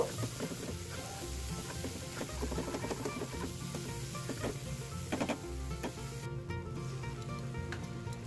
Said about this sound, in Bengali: পেঁয়াজ কুচিগুলো দিয়ে হালকা নেড়ে চেড়ে একটু ভাজা ভাজা করে নেব